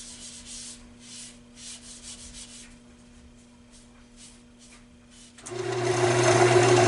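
A woodturning lathe spins a rusty bowl at slow speed while Yorkshire Grit abrasive paste is rubbed on by hand, making a steady rubbing hiss over a low motor hum that swells louder near the end, with no talking.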